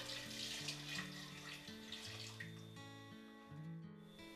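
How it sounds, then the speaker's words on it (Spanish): Water runs and splashes into a cooking pot of pears with red wine, cinnamon stick and sugar for poaching, a soft continuous pour under faint kitchen background with a sustained tonal hum and no talk. "y agua hasta que estén cubiertas las peras"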